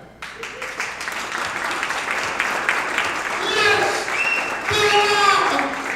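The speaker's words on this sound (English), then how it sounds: "if y'all want to clap, Y'all go ahead and clap." An audience at a high school financial literacy fair claps and cheers in a sustained burst of applause, with voices shouting excitedly over the clapping.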